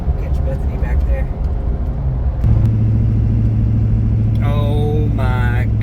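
A Chevrolet Duramax truck engine pulling a camper through Arkansas gives a steady low drone and road rumble from inside the cab. A brief shift in engine note comes midway, and a person talks over it.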